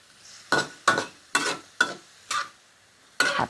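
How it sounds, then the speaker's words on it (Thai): Bean sprouts stir-fried in a pan for a dish with pork belly and spring onions; six distinct scraping tosses land in a steady rhythm over a soft sizzle, close and fairly quiet, with no talking. "ใส่ถั่วงอกลงไปผัดเลยค่ะ"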